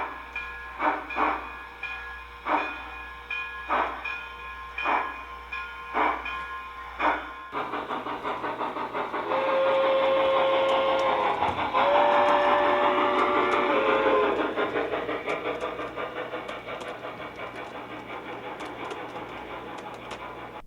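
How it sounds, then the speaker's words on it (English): A Boston and Albany tank engine model train chuffs in a steady, evenly spaced rhythm of sharp puffs, then gives way to a continuous rolling rumble with a sustained whistle-like tone in the middle, heard close and alone. "This little Boston and Albany tank engine is the motive power for those commuter trains."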